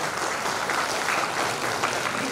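Sustained clapping from an audience at a mayoral and deputy mayoral election debate in Padang Panjang, a steady, even wash of many hands in an indoor hall lasting a couple of seconds.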